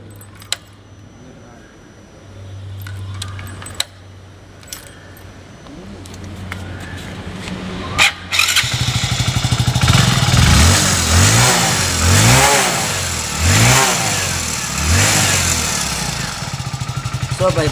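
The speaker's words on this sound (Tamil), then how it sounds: "வண்டி ஸ்டார்ட் பண்ணி பார்த்தா இப்போ எல்லாமே தெரிஞ்சிடும் ஸ்டார்ட் பண்ணுறோம்" After clicks and a low hum, a Hero Splendor motorcycle engine catches, freshly back from a throttle body cleaning. It idles loudly, then revs up and down several times in a rising and falling rhythm.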